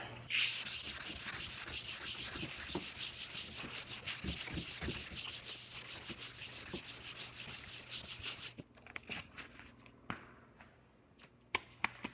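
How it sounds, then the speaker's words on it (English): Sandpaper of 320 grit rubs back and forth over cured body filler by hand in fast rhythmic strokes, close and steady for about eight seconds, then slower scattered rubs and light handling noises. "I'm just going to run over this with some 320 grit."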